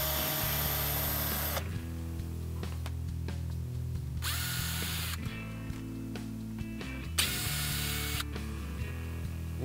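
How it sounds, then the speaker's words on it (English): A power drill whirs in steady bursts while backing out T20 Torx screws from the third brake light of a Ford pickup, with quieter mechanical clicks and handling noises between runs. "I'm going to use a drill."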